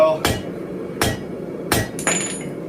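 A hammer strikes metal at a forge four times in steady, ringing blows, loud and close, with a shimmering metallic ring after the last hit.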